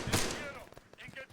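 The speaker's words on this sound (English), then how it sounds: "Contact machine gunner." An enemy machine gunner fires in Arma 3, a sharp burst of gunshots at the start followed by scattered quieter shots and echoes, with a voice speaking over the firing.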